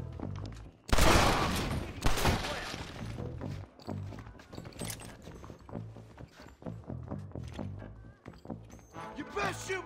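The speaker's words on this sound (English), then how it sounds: "o tiroteio tá comendo, tem bandido dentro da casa." Gunfire shootout in the Western video game Red Dead Redemption, with bursts of loud shots and crashing impacts, followed by scattered shots and clatter under ongoing game dialogue.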